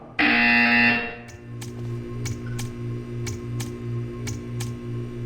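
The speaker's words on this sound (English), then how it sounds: "You will hear a buzzer. When you hear the buzzer, stare at the art." A loud electronic buzzer from the video game Portal 2 sounds once for about a second, then a series of short sharp ticks or clicks follows at regular intervals over a low steady hum.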